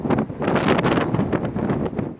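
Strong, gusty wind buffets the microphone outdoors in a Siberian spring snowstorm, a loud, roaring rush that swells and drops in gusts.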